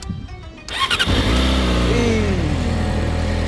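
A 2020 Yamaha R6 motorcycle engine starts up with a quick cranking stutter, then catches and settles into a loud, steady idle heard close by.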